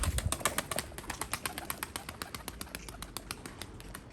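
A domestic pigeon in training makes a rapid series of wing flaps, close and distinct, that gradually settle into softer beats with no talking.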